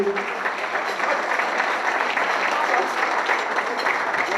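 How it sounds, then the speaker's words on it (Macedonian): A hall crowd gives sustained, dense applause for the Makedonija volleyball club of Strumica at its 40th anniversary celebration, the clapping loud and even throughout. "Да молам аплауз за овој клуб"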